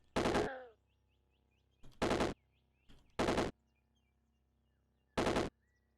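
Four loud bursts of rapid gunfire from the video game Caves of Qud, each lasting a fraction of a second and separated by short silent gaps, with faint game sound effects playing between them.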